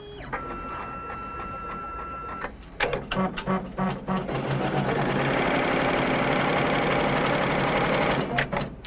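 An embroidery machine stitching 12 weight acrylic thread for a reverse appliqué with felt, starting after a few tapping starts into a loud, continuous rapid mechanical hammering that runs steadily to the end.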